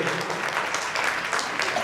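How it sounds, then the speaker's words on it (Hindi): Crowd applause at a ceremony honoring a late community member, a dense patter of many hands clapping steadily at moderate loudness for a short stretch. "तालियां बजाकर इनका सम्मान करें"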